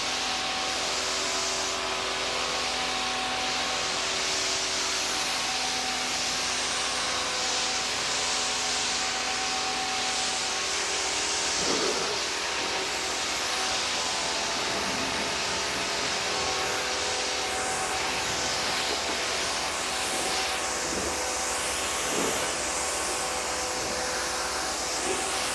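A water hose rinsing foam off a car during a wash, a steady hissing spray that runs continuously at close range with a faint tonal whine underneath and a few brief splashing shifts.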